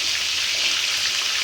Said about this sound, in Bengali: এবার কিন্তু আমি এর ভিতরে পরিমাণ মতো জল দিয়ে দেবো।